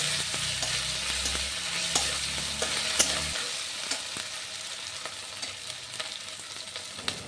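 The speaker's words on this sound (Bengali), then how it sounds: "আদা রসুনের কাঁচা গন্ধটা না যাওয়া পর্যন্ত ভালোভাবে ভেজে নিচ্ছি" A paste of ginger, garlic, green chilli and onion fries in hot oil with a close, steady sizzle, stirred with light scraping and tapping that carries on after a low rumble stops partway.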